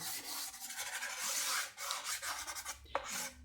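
Soft pastel stick rubbed over sandpaper, a faint close scratchy rasp in quick uneven strokes throughout with a small tap near the end.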